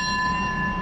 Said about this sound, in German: Jetzt wird die Glocke geläutet.